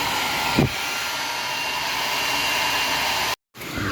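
A hand dryer blower in a clean resort restroom near a swimming pool runs steadily and loudly as a continuous airy roar, cutting out briefly near the end before starting again.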